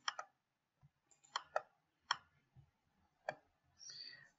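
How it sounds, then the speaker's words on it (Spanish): Several sharp computer mouse clicks come in uneven pairs and singles, close and crisp in a quiet room, with a brief faint rustle near the end. "Pueden hacer clic aquí en Login."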